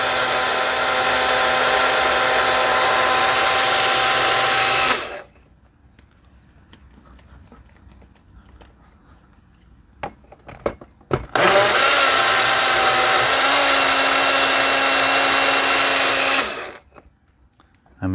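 A loud blender whirs through frozen fruit in two long bursts separated by a quiet pause with some clattering and shaking, then runs again before stopping.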